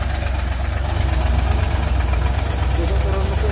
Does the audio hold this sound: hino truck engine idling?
yes